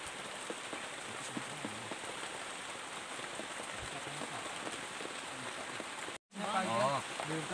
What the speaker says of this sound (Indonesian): Ya, kondisi hujan.